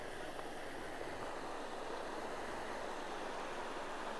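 Dikapanikian River, clear and with a strong current, gives a steady, broadband rushing hiss that is constant and unbroken throughout, fairly faint and even with no voices.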